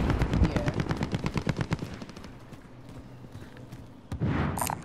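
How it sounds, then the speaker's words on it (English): Rapid automatic gunfire in Call of Duty Warzone, a dense burst of quick shots that thins into scattered, more distant pops, then a louder blast near the end, with no talking over it. "Maybe we're getting shot from somewhere."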